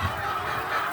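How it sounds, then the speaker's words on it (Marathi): BV300 layer hens, around 85 weeks old, cluck and murmur softly in a poultry farm shed, a low, continuous flock chatter heard up close without talk. "पक्ष्यांचा आवाज तुम्हाला येत असेल,"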